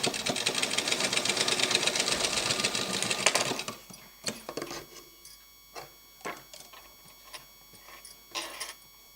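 A sewing machine runs a fast, steady stitch along thread piping for a few seconds, then stops. After it stops, scattered clicks and handling knocks are heard.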